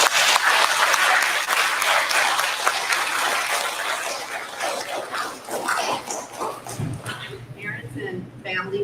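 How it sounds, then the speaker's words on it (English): Audience applause at a school fifth grade awards assembly: loud, steady clapping from a crowd that fades toward the end, with a voice starting to speak over the last seconds. "Let's give her class a round of applause."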